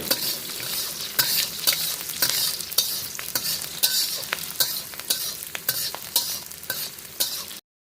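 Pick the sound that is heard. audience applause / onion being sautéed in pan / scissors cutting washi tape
onion being sautéed in pan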